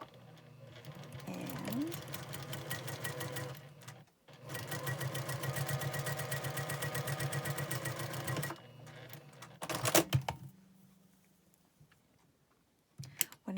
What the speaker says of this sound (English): You're going to sew that across.